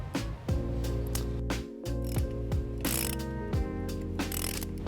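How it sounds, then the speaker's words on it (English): A ratchet fitted with a 12mm socket loosens the positive battery terminal nut on a 2013 Nissan Sentra, giving steady, rapid, close clicking in repeated back-and-forth strokes. "Now we're going to take a 12mm socket and remove the positive terminal nut."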